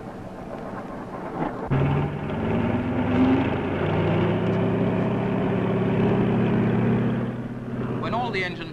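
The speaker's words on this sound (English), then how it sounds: "The engines are running" Engines of a Fairey Swordfish biplane torpedo bomber run at a steady, loud drone with a throbbing low rumble, starting abruptly and holding throughout.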